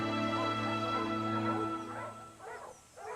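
Hunting dogs of the mythical hunter Actaeon, chasing a white stag, yelp and bark in a few rising bursts toward the end, over a sustained droning musical score that fades away.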